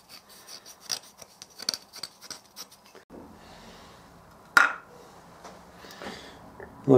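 Hardened, stabilised bog oak knife scales are scraped in a workshop, making a run of short, dry rasping strokes, then a quieter pause broken by a couple of sharper knocks.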